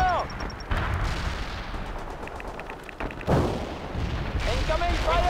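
Booming artillery and gunfire crack and rumble in the World in Conflict strategy game, several heavy blasts spread over a few seconds with radio-style voice callouts mixed in.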